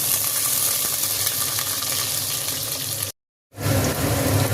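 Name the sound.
onions and whole spices frying in hot oil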